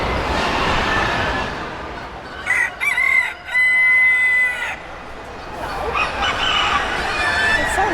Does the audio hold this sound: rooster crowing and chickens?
yes